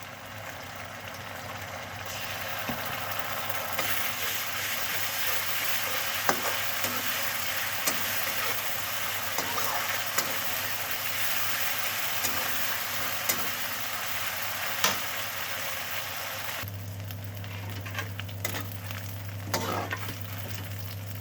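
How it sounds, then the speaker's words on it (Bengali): Ginger-garlic paste sizzles steadily in a pan of fried onions for a fish and mushroom curry, with scattered spoon scrapes and clicks as it is stirred; the frying stays loud and continuous throughout, with no voices. "পেঁয়াজ ভাজা গেছে, এবার দেবো আমি আদা রসুন বাটা।"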